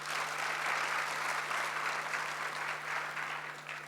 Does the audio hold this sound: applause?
yes